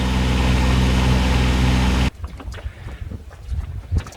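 A boat motor drones loudly and steadily while heading out of a creek near Curtis Island, then cuts off abruptly, leaving wind and water noise.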